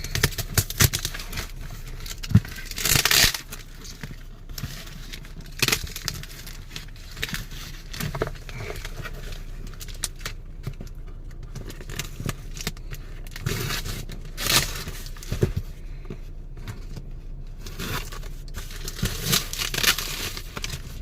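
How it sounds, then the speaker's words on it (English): A cardboard box being ripped open by hand: close, sustained tearing, scraping and crinkling with sharper ripping bursts scattered throughout, and no voices. "Let's rip this box open."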